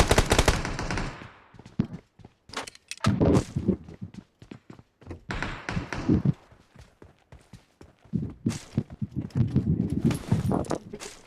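Sniper fire and other gunshots in a PUBG Mobile match, sharp scattered cracks separated by pauses, some arriving in quick bursts, with in-game voice lines and a player talking between them.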